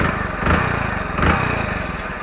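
A Hero Splendor BS6 motorcycle engine runs at a steady idle close by, a continuous low mechanical hum with two slight swells in loudness, with no talking.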